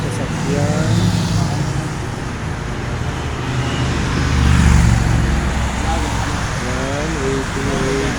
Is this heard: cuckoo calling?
no